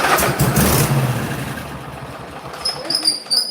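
A Husqvarna LG2654 lawn tractor engine catches on choke at full throttle and keeps running, a loud, close, rough mid-pitched roar that gradually settles, with a few brief high tones near the end.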